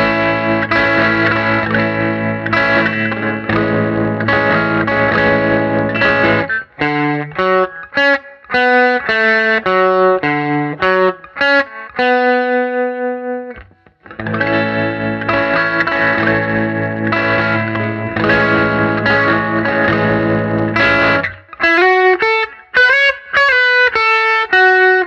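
Electric guitar plays a song intro through chorus and distortion effects, mixing loud, full strummed chords with picked note runs, a brief pause near the middle, and no voices.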